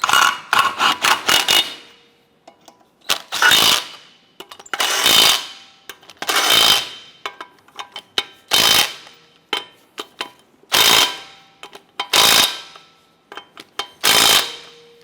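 A power tool snugs down lug nuts on a 2007-2012 Nissan Versa wheel in roughly ten sharp, close bursts, each a short loud whirring rattle separated by brief silences.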